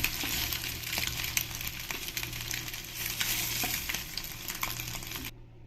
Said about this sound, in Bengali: এবার এই ডিমগুলো দিয়ে আমি একটু ফ্রাই করে নেব